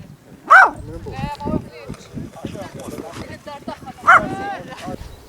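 Two separate loud barks from a dog hidden in a bush on Comino, Malta, a few seconds apart, ring out over steady conversation nearby.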